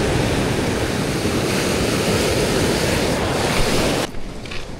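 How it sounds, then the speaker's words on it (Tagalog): Strong waves breaking on a rocky shore, a loud, continuous rushing surf mixed with wind buffeting the microphone, dropping slightly in the last second. "Malakas pa rin yung alon."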